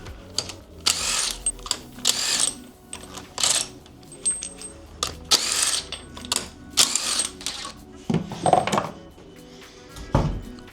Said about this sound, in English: first thing first, we'll take the wheels off